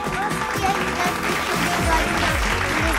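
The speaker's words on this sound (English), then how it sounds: "clap your hands" A little boy claps his hands along with a chant, a steady run of bright, sharp hand claps over a broadband wash, with talking and background voices mixed in.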